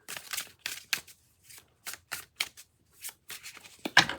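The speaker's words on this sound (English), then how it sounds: "I need another shuffle." Quick riffling tarot card shuffles come in short repeated bursts, crisp and close, with brief pauses between each flutter and no talking.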